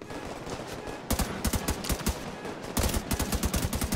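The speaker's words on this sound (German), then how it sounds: "Da habe ich, glaube ich, gerade den eigenen Verbündeten angeschossen" Rapid automatic gunfire from The Division 2 rattles in fast bursts of close, sharp shots, growing denser and louder in the second half over constant battle noise.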